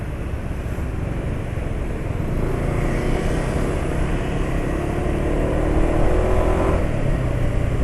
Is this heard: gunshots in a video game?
no